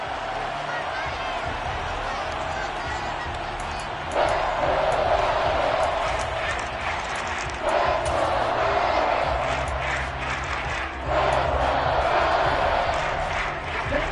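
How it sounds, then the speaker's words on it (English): A football stadium crowd roars and shouts as a replay is shown, a steady loud wash of voices that surges in three waves, with a commentator talking over the noise. "Plenty of shouts from this crowd as they watch the replay."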